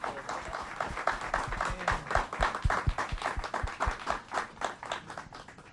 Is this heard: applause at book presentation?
yes